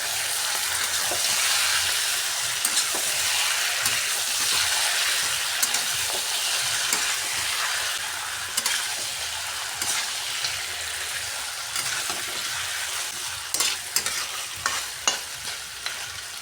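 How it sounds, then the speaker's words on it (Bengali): Duck meat being stirred in a frying pan, with steady sizzling and frying throughout and scraping, clinking stirs of a utensil against the pan growing more frequent toward the end; no talking. "মাংসগুলোকে নেড়ে চেড়ে দেবো।"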